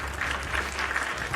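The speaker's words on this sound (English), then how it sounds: "Clap, clap, clap. Applause, applause, applause." Applause sound effect played over a livestream: steady, dense clapping at moderate level throughout the short stretch, with no voices over it.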